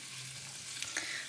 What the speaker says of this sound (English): I'm frying off my tofu at the minute